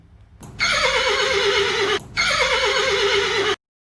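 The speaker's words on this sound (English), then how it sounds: "Horse says neigh." A horse neighs twice in close succession, each whinny loud, shrill and drawn out for over a second, with a brief gap between them and no talk.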